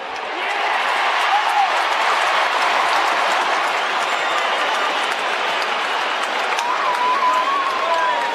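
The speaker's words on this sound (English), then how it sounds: "Listen to the applause here." Football crowd in a stadium cheering and applauding after a Collingwood goal against West Coast Eagles, a dense, sustained roar filling the whole stretch at steady loudness, with a commentator's voice running over it.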